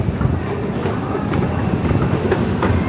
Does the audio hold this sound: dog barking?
no